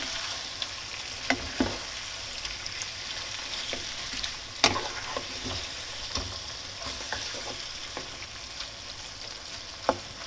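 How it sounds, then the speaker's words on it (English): Minced meat frying in a pan for buttery spaghetti bolognese, a steady close sizzle with scattered crackles and pops, no talking. "when I am cooking the meat, I just like to let it sit there without stirring it too much"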